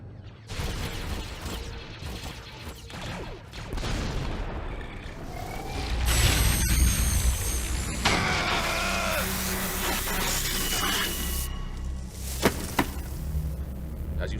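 An arc generator energy pulse weapon from Star Wars Rebels is fired in a test against a Mandalorian in Beskar armor, giving a dense, roaring crackle of energy that swells into shrill, sizzling whines and bursts before fading to a rumble.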